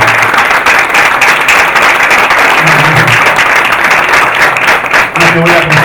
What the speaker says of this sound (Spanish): Un aplauso para Juana Bondarán.